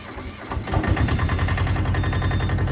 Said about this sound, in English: And the engine will start up.